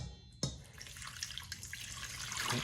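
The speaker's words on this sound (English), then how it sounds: "I'm going to mix with that 18 ounces of spring water." Spring water is poured into a levain sourdough starter, giving a continuous, close, splashing pour that starts abruptly and runs steadily to the end.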